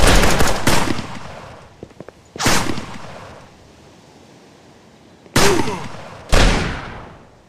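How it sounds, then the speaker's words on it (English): Gunfire from the video game Lifeless in PvP mode: four loud, separate shots, each trailing off in an echoing decay, with long quiet gaps between them. "In addition to hearing out the gunshots, you'll be able to see the flashlights of your enemies too."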